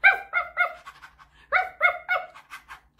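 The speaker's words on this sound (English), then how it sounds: "If you see a doggy, don't forget to bark." Sung dog barks within a children's boat-rowing song, two groups of short, harmonic woofs or yips in quick succession, each group of about four, loud and close with brief gaps between.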